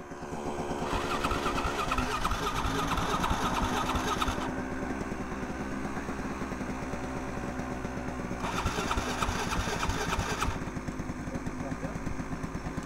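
Enduro motorcycle engine fires up and runs with a loud, steady buzzing drone that rises and falls in revs over several seconds, close by, with people talking over it.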